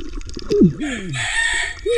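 A rooster crows once, a rising and falling call up close, followed by a brighter squawking burst and another short call starting at the end.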